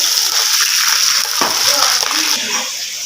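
Steady rushing garlic water pours and splashes continuously into a pan of rice with browned onions, a broad hissing gush that fades slightly toward the end, with faint sizzling underneath.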